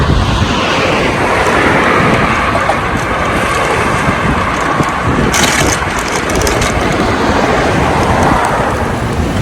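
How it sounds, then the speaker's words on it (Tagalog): An airplane takes off at a distance, a broad steady roar mixed with wind buffeting the microphone, heard outdoors from a bicycle ride in Shanghai. "Ayun aeroplano na nag-take off na naman."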